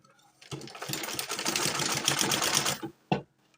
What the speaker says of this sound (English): I'm sewing at the center of this black, the blue one, the royal blue inside.